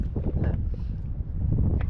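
Steady, strong wind buffeting the microphone with a low rumbling roar, continuous throughout the short stretch.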